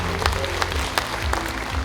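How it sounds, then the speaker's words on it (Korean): Audience applause at a Democratic Party book launch event in Wonju, a steady dense patter of clapping filling the hall without pause, with a few louder claps standing out. "존경의 함께 다시 한번 큰 박수 부탁드리겠습니다"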